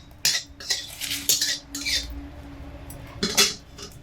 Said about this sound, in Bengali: তেল একটু নাড়াচাড়া করে নিচ্ছি কড়াইতে।